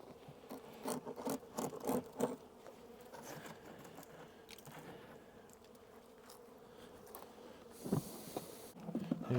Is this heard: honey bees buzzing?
yes